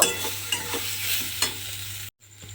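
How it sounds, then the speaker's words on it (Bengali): Kalmi greens stir-fry in a kadai, with a spatula scraping and tossing the leaves in a few distinct strokes over a continuous hiss of oil, close and steady before a brief cut to silence near the end. "যতক্ষণ না পর্যন্ত দেখবেন কড়া থেকে উঠে আসছে, ততক্ষণ এইভাবে আমি একটু নেড়ে নেড়ে রান্না করে নেব"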